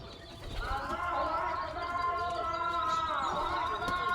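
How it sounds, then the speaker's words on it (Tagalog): Tippler pigeons at a backyard loft make low, rolling coos that rise and hold for a few seconds at moderate distance, with some faint background noise. "Ito yung klase na pigeon na Tipler"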